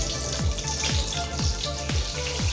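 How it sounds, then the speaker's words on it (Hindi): Chicken vadas frying in very hot oil in a pan over a medium flame, a steady close sizzle and crackle, with no voices. "देखिए हमारे आखिरी बैच के चिकन वड़ा है जो कि फ्राई हो रहे हैं"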